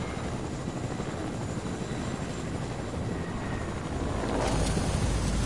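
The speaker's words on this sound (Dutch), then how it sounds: "Zou ik op die toren kunnen landen met die heli?" Helicopter flying in a video game, a steady loud rotor and engine drone with a slight swell toward the end, continuous with no talk over it.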